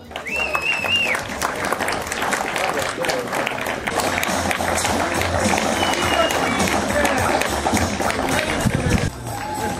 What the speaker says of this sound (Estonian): aga aplaus veel!